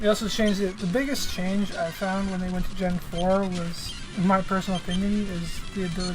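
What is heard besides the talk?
No distinct noise like a dog, phone or traffic.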